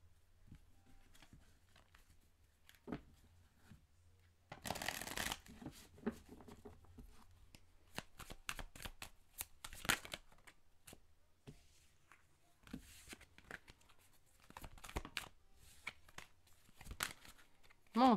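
Tarot cards are shuffled and handled in quiet, irregular bursts of papery rustling, slapping and soft clicks, with a louder flurry of shuffling partway through and stretches of near silence between.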